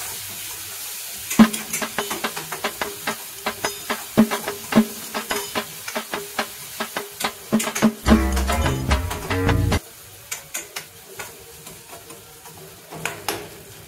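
Tomato rice is mixed with tomato curry in a pan, producing close repeated scraping and stirring taps with a soft wet hiss, plus a brief louder rumble in the middle.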